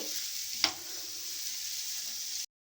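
Carrot and onion pieces frying in a pan, a steady bright sizzle with one sharp clink of a utensil early on, close and alone until it cuts to silence.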